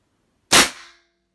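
A single sharp, loud report from a Benjamin Bulldog .357 air rifle firing a 97 grain Diablo pellet, a close crack with a short decaying tail, otherwise silent.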